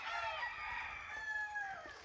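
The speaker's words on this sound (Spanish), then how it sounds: "Un gallo jabao que me regaló Steven Sánchez, descendiente del Nene." A jabao rooster from Puerto Rico crows one long, loud, close call that holds its shrill, wavering tone for about two seconds before trailing off.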